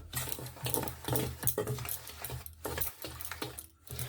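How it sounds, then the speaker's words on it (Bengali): Dry ingredients for malai pitha being stirred together in a bowl, a quiet, steady rhythm of soft scraping and light clinking close by, with no voices. "এখন ভালোভাবে শুকনো উপকরণগুলো একসাথে মিশিয়ে নিতে হবে"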